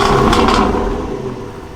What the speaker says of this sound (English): that V8 roars up to life